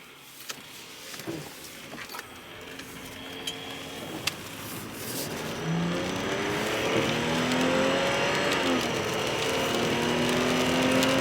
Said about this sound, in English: fast, good driving car. It's the Supra motor without the turbo, pretty much.